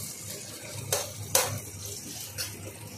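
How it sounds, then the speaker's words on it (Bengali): Onions fry in a pan for chicken bharta, a soft steady sizzle broken by two sharp clinks of a utensil against the pan, with a fainter scrape near the end. "পেঁয়াজগুলোকে 4 থেকে 5 মিনিট মতন একটুখানি ভেজে নেব।"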